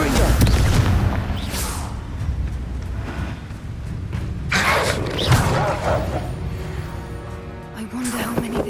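A Confringo fire spell blasts in Hogwarts Legacy, giving a loud booming burst with crackling debris under a dense game soundtrack and ambient rumble, while voices talk over it.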